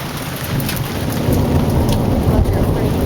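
Heavy thunderstorm with hard rain pouring steadily and thunder rumbling low throughout, loud and close, a dense continuous wash with no talking.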